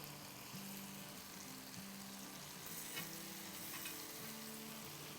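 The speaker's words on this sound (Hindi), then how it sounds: "मसालों को जलाएंगे नहीं, बेहतरीन तरीके से भूनेंगे।" Spices roast in a pan for vegetable pulao, giving a soft, even, continuous sizzle with a faint low hum underneath and no voices.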